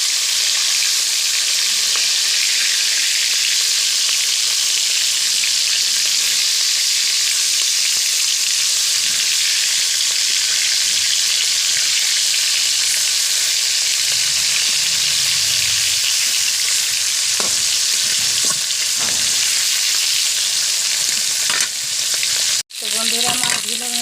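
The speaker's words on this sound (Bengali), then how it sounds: "পাবদা মাছগুলোর এক পিঠ হয়ে আসছে। আমি এগুলো একটা একটা করে উল্টে দেবো।" Pabda fish fry in a pan of oil in a village kitchen, giving a loud, continuous close sizzle throughout, with a few soft knocks near the end as the pieces are turned.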